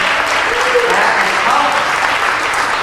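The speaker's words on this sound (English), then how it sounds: "give the teachers a round of applause." An audience bursts into applause for teachers at a comedy show, a dense, loud wash of clapping from many hands filling the space evenly with no pauses.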